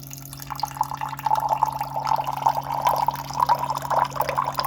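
A countertop reverse osmosis water filter dispenses six ounces of water into a glass. A steady, close trickle and splash of pouring liquid builds slightly as the glass fills, over a faint constant electrical hum.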